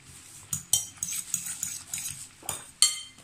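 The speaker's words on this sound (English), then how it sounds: "I'll stir it together like this." A utensil stirs eggs and vegetables together in a bowl for a pancake, making close, rhythmic clinks and scrapes against the dish about every third of a second, with no voices.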